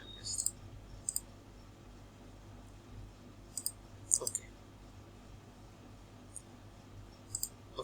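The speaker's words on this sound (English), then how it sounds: "I'm just simply clicking on send" Sharp computer mouse clicks on a send button, arriving as a handful of quick, isolated taps spread over several seconds above a faint, steady room hum.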